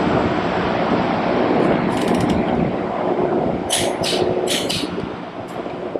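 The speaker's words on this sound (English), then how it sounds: "Now that everything's together, we can go ahead and torque down the axle." A torque wrench ratchets as it tightens the front axle of a 1992 Honda XR250L motorcycle, with bursts of quick clicks over a loud, steady background rumble and no talking.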